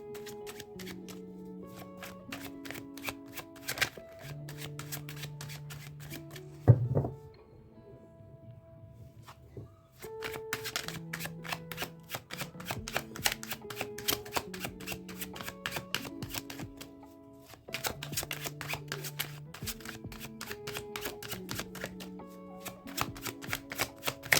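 A tarot card deck is shuffled in repeated riffling bursts with a short pause partway through, set over steady melodic background music, with no one speaking.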